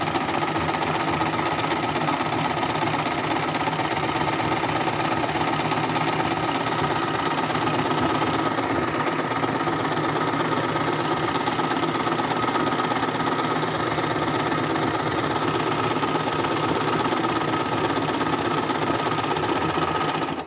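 An Usha embroidery machine runs continuously with a loud, even mechanical chatter and vibration, a dense steady drone close by with no pauses.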